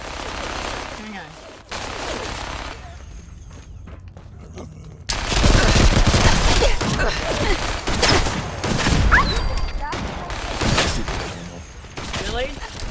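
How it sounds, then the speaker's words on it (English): Heavy gunfire from a big machine gun during a Fallout 4 firefight, dense bursts and crashing impacts filling the scene, quieter stretch early then loud sustained shooting with game action noise. "Why would I not be shooting at Glory when she's got that big-ass machine gun?"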